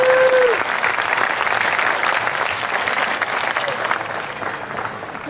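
Audience at a school grand opening ceremony claps in a sustained round of applause, dense and steady throughout, fading slightly near the end.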